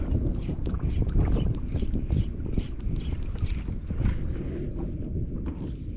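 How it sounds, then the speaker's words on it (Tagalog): Wind buffets a boat out on the water during a fishing trip, a steady rough low rumble of gusts against the microphone with faint lapping and knocking throughout. "medyo nag-start na naman yung hangin"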